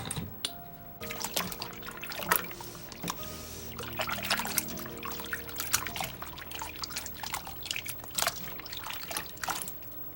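Pork intestines washed under running water, with a steady trickle and splash as the wet pieces are rubbed and handled, broken by irregular drips and slippery squelches, close and moderately quiet.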